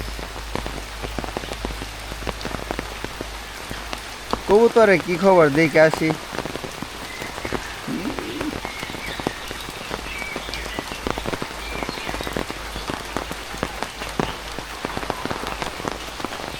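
Heavy rain keeps falling in a village with a continuous loud hiss and dense pattering drops. A person speaks briefly partway through over the downpour.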